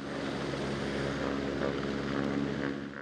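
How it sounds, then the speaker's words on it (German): A helicopter flying low over a city during a tree-removal operation in Kempten, a steady loud rotor and engine drone that holds constant throughout with no break. "Ein Hubschraubereinsatz mitten in der Stadt ist natürlich nie ohne Risiko."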